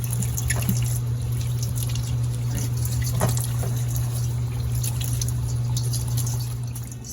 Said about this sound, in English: Begin by washing our vegetables really good